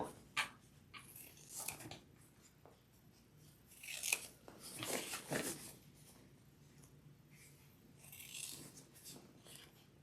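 A small area of a fabric crossbody bag is trimmed with scissors: quiet, close snips and rustling fabric in uneven bursts, with soft handling noise between cuts and no talking.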